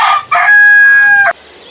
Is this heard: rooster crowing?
yes